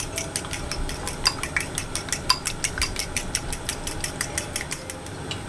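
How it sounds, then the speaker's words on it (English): Rapid, steady clinks of a whisk against a bowl as a batter mixture for Southern fried and barbecue oven-baked chicken is beaten until translucent, close and fairly even in rhythm with no talking. "you're going to whisk that until when it turns translucent"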